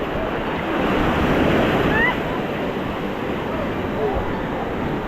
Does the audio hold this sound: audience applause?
no